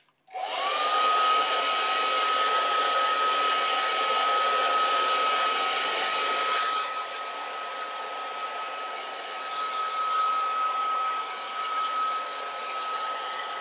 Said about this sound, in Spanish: voy a dar un golpecito secador muy rápido